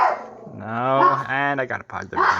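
A pet dog barks indoors in short repeated woofs and growly yelps, close and loud, while someone talks over it.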